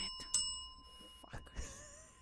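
A bell rings twice in a tavern setting, a bright ding near the start and another shortly after, followed by faint murmuring voices and a sigh.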